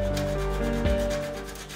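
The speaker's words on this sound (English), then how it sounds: "Then grate a fine pinch of nutmeg to the cloves." Nutmeg scraped across a fine grater into a bowl of ground cloves, a steady close rasping rub lasting under two seconds with one brief bump midway.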